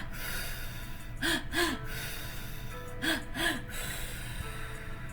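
Guided breathwork session with paired deep breaths: two quick, forceful inhales and exhales near 1.3–1.6 s and again near 3.1–3.5 s, heard close against a low steady background hum with no talking.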